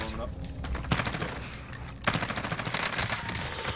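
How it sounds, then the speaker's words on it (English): Gunfire in Call of Duty Warzone, rapid automatic bursts in close, loud volleys with a short pause between them, with a voice talking in the mix. "Oh, I'm getting shot from backside."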